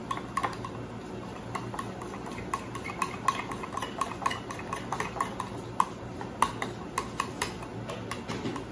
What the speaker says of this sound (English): Now we're going to mix it all up.